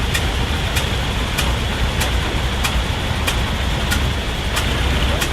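A veteran car pulling away at the start of the London to Brighton Veteran Car Run, a steady engine drone with regular sharp ticking beats, close and fairly loud, no talk.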